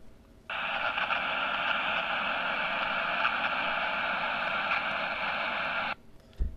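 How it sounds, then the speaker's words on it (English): Radio static in the Star Wars game Dark Forces 2: a steady, even hiss of crackling noise switches on abruptly and runs unbroken for about five seconds before cutting off, with no voices. "all he heard was static"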